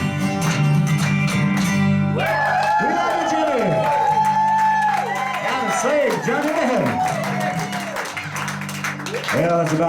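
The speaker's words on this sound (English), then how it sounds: "Everybody clap." A live country-music radio-show audience claps along to a chorus: rhythmic, repeated hand claps under loud singing voices and band music, steady throughout.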